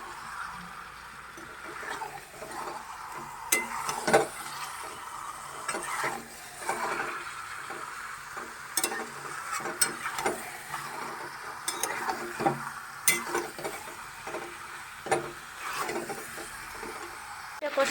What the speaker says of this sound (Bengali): একটু নেড়ে নিতে হবে।